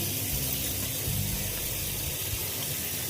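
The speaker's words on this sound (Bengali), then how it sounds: "এবার আমি একটু মুখটা ধুয়ে নেব।" Water running and splashing steadily as someone washes their face, a continuous close gush with small shifts in the flow and no voices.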